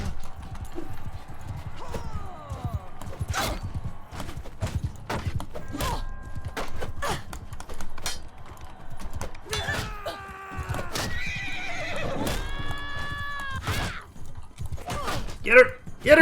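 Horse hooves clip-clop and a horse whinnies amid clashing combat sounds in the medieval battle game Mount & Blade II: Bannerlord, with rising whinny-like tones near the middle and loud hits at the end.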